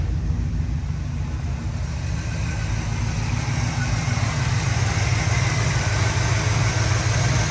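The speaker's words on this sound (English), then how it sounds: "That 351 Windsor sounds great" A 1951 Ford Woody wagon with a 351 Windsor V8 idles steadily and close by, a deep, even rumble with a slight rhythmic pulse and no voices.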